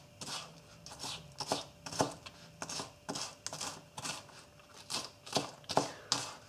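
A Spyderco Native 5 folding knife with a 75 mm blade slices onion into small half rings, giving a steady run of about a dozen crisp, close cutting strokes with no voices.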